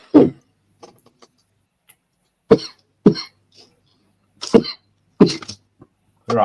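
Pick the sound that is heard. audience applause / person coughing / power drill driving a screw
person coughing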